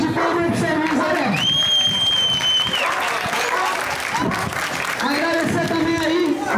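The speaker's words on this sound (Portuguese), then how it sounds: "uma salva de palmas pro São Luís" At a children's day street festival with a rolimã cart race, a crowd claps and cheers loudly throughout while a voice calls out over the noise.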